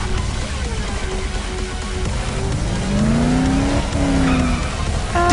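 A car in the Dead Island video game, stuck and spinning, with squealing, skidding tyres and a straining engine whose pitch sweeps up and down, loud and close with no talk over it.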